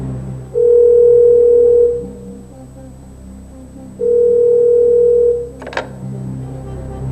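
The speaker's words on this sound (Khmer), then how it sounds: "សូមភ្ជាប់ទូរស័ព្ទបាទ" Two steady telephone dial tones on a call being connected during a TV phone-in show, each lasting over a second with a short gap between, loud and clean, followed by a brief click at the end.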